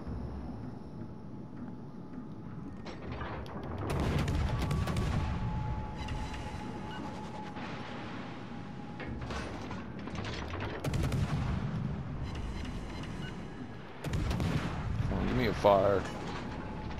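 Naval guns in World of Warships fire at the Tirpitz. Heavy booming salvos come in several bursts amid mechanical rumble and clatter, with a voice talking over parts of it.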